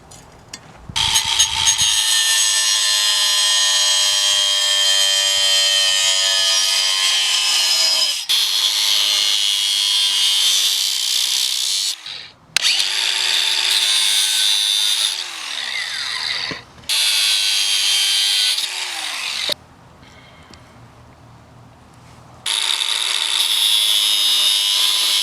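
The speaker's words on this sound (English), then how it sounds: "Got a grinder with just a basic cutting wheel." An angle grinder with a basic cutting wheel cuts a broadhead shape from a metal plier piece in long, loud, close bursts of harsh whining grind, with brief pauses and motor pitch dips between passes.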